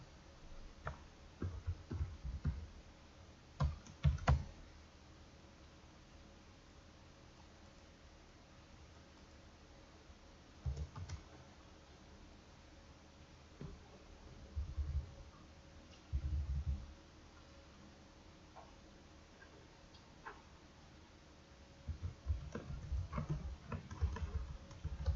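Short bursts of computer keyboard typing recur intermittently, fairly faint and close, against a steady low hum in an automotive repair shop office, with long quiet pauses between the clusters of keystrokes.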